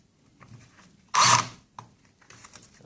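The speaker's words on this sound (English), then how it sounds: "you drill into a nice smooth piece of wood, not into an existing hole" A brief burst of a power drill boring into smooth wood, used to screw down an MDF top, a short bright whir lasting under half a second amid faint clicks and handling noise.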